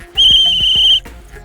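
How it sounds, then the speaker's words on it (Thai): A referee blows a single sharp, piercing whistle blast that lasts just under a second, loud and close, amid a few low thumps and knocks, then stops abruptly. "ถ้าได้ยินเสียงนกหวีดแล้วก็ถอดได้เลยครับผม"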